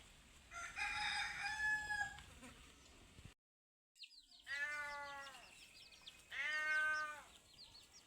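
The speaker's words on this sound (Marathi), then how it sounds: "मग पाखरांचा आवाज येतो" Birds call out in drawn, harmonic cries, a long one first, then after a brief silence two more loud calls with shorter notes between.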